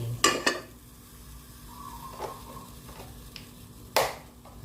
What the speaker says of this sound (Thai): น้ำกะทิผัดเครื่องแกง ประมาณสองทัพพี